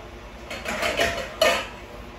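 Metal lid set onto a pot of simmering chicken sinigang, a few short clanks and scrapes clustered within a couple of seconds, fairly close and clear, with no talk.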